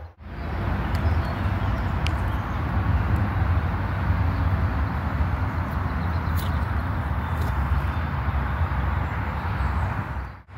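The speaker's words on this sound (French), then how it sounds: "Alors le bruit que vous entendez derrière moi, c'est l'autoroute" Steady, broadband highway traffic roar heard from within a large wood, constant and fairly loud with no breaks, a few faint bird chirps above it.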